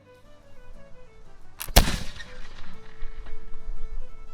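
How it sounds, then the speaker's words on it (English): A flintlock musket fired outdoors at a historic fort demonstration: one sharp, loud bang with a brief crackle of the pan flash, then a long rolling echo that fades, with faint murmuring voices of onlookers afterward. "when flint strikes steel, sparks fly, sparks will touch off the powder in the pan, and the musket goes bang."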